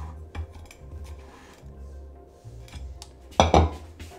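A saucepan clanks onto a kitchen scale while cooking okonomiyaki, scattered metallic clinks and light knocks, with a louder double clatter near the end.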